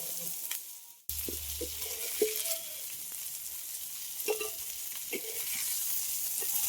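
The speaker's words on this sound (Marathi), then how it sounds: "आपली सर्व मच्छी फ्राय झालेली आहे" Mackerel (bangda) fish sizzling in a pan over a traditional village wood-fired clay stove, a steady broadband fry hiss after a brief quiet start, with scattered crackles and pops and occasional clinks, no talking.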